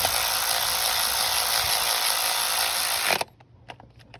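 A ratchet wrench tightening a spark plug on a 2012 Honda Accord makes a loud, fast, continuous clicking for about three seconds, then stops abruptly, leaving a few faint clicks and handling noises.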